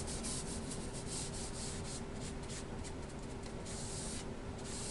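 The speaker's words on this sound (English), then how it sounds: "Scrubbing it in, because you know sometimes that canvas is kind of really porous at first, and it likes to soak up that varnish." Up close, a new sponge brush scrubs varnish into porous canvas with a steady, faint rubbing hiss that carries on without a break.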